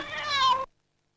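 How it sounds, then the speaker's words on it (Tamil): One short, close cat meow rising and falling in pitch, then abrupt silence. "இது பூனை"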